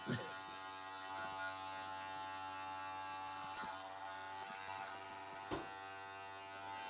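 Electric hair clippers run with a steady, fairly quiet buzz during a men's crew cut done at home, with a couple of brief clicks or knocks over the hum.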